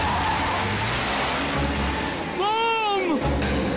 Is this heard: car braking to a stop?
yes